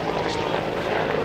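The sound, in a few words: Bell AH-1S Cobra helicopter flying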